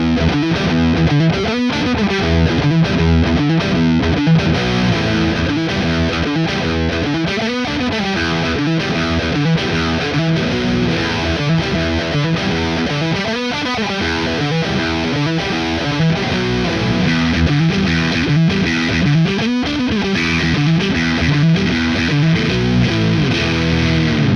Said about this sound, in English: So here's the riff without series parallel on